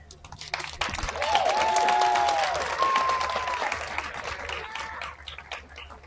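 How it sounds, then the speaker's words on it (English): Audience at the Spanish Springs High School 2021 afternoon graduation ceremony applauding faculty and staff, a broad wash of clapping swelling and holding for several seconds before easing off, with faint voices and a brief whistle-like tone. "give a moment of applause for them"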